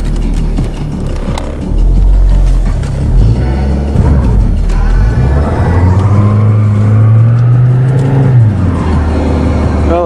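An old farm vehicle with no brakes is cold-started and revved hard while its wheels spin and smoke rubber. The engine is loud and close, and its pitch climbs in long revving surges.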